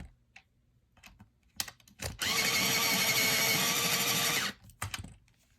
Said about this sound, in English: See, I already want to go ahead and sharpen this.